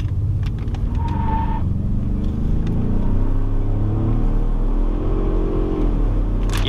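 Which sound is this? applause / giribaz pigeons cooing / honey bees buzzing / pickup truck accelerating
pickup truck accelerating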